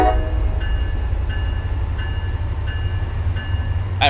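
An MBTA commuter train in Train Sim World 5 rolls out with a loud, steady low rumble and repeated soft chiming tones at regular intervals, ending on a brief high sound.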